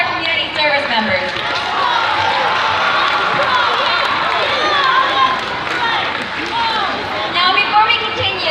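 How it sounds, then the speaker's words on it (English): A school community meeting crowd gives a round of applause for community service members, steady sustained clapping and cheering blended with crowd chatter. "Let's give another round of applause to all of our community service members."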